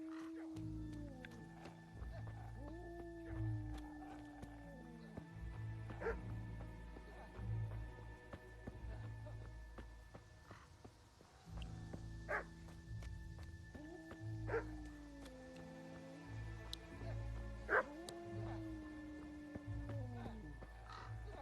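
Dog barking in the medieval video game Kingdom Come: Deliverance, repeated barks rising over a steady low ambient game bed with distant background sounds, spread through the scene at moderate volume.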